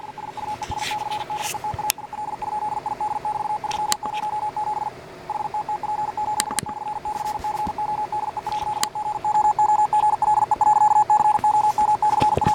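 Rapid Morse code beeps in a steady high tone stream continuously over a crackly, hissing radio background with occasional sharp clicks.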